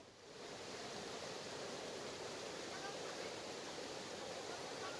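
Fast-flowing floodwater rushing through an overflowing drain in Ramnagar, a steady, dense roar of water that holds constant throughout, heard from nearby with no clear talking.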